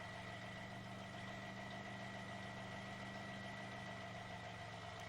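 A sports car's engine idles steadily with a low, even hum while the car is slowly backed into a home garage, continuous and close with no talking.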